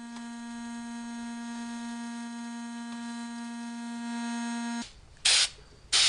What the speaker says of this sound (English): So I shot it again with another coat of Zero Rust from the gun.